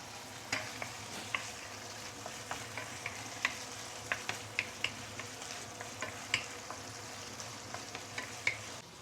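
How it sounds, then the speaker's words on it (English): Meat sautéing in a pan for stir-fried yellow noodles: a steady close sizzle with frequent sharp clicks and scrapes of a utensil stirring against the pan, no talking. "Let's saute this a bit."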